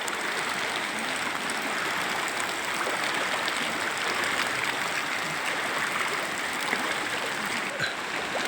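A steady, full rush of flooding river water overflowing its banks after heavy rain, broad and constant throughout with no pauses or voices.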